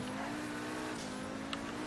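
A car in the video game GTA 5 driving off on its own, a steady engine drone with a faint tonal hum held throughout, fairly quiet and constant.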